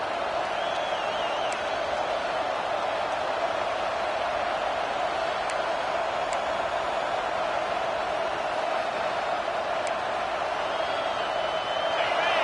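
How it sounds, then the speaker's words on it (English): A football stadium crowd roars steadily on third down, a dense, continuous wall of cheering noise backing the defense, loud and unbroken throughout with a few faint whistles or tones poking through. "Decibels rising as the crowd gets behind this defense on third down."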